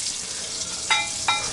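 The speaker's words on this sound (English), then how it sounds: "See, now it's sizzling." Diced onions and minced garlic sizzle in hot grease in a pan, a steady bright frying hiss with two short louder bursts as the food is stirred.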